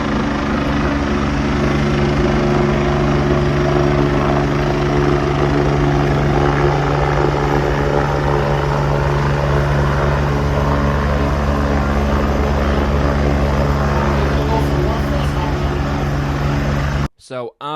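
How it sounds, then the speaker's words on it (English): A helicopter landing at a dirt-track racetrack, its rotor and engine roaring loud and steady with a constant low throbbing drone throughout, cutting off abruptly near the end. "had a video of the helicopter landing at the racetrack"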